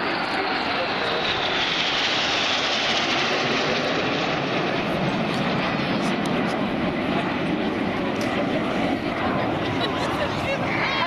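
RAF Red Arrows jets flying a formation display at the Air Waves Portrush 2015 air show, a steady loud broadband engine roar sustained throughout with little variation, while a commentator talks over it.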